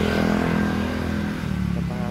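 A motorcycle engine runs close by with a steady, rough, buzzing idle and slight revving throughout a brief moment.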